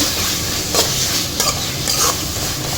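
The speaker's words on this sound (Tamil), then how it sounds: "இஞ்சி பூண்டு பேஸ்ட்டு அதையும் சேர்த்து நல்லா இந்த மாதிரி அந்த பச்சை வாசனை போகிறதுக்கு வதக்கி விட்டுருங்க" Ginger garlic paste sautés in a pan with a loud, close sizzle, broken by a few scraping stirs of a spoon against the metal.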